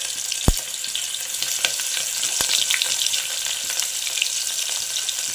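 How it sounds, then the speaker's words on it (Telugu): Chopped onion frying in a hot pan for chukka kura pappu, a dense continuous sizzle with a few sharp taps of a utensil against the pan, close and steady with no voices. "ఇప్పుడు ఒక ఆనియన్ వేసుకున్నాము."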